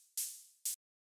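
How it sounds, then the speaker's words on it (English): A synthesized open hi-hat built from two layers, an Operator-made hi-hat and a shaker, gives two bright, airy hits: a longer one that decays slowly, then a shorter cut-off one. No voices. "So the way that I made the open hi-hat was with two layers."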